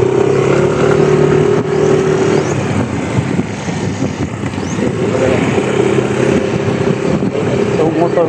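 A Honda motorcycle engine runs loud and steady, its low harmonic drone rising and falling as it revs, with voices talking over it throughout.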